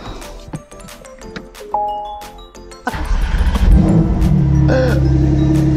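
Clicks and chimes inside a Porsche 992 911 Turbo S, then its engine fires up and revs loudly, settling into a deep, steady roar.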